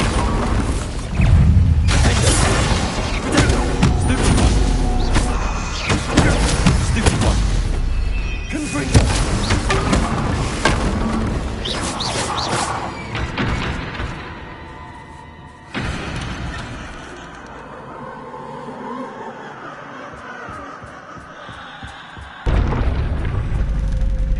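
Bombarda spell explosions in a video game: loud booming blasts and rattling debris bursts that come in clusters, then fade into quieter mechanical clatter and ends with a final sudden thump.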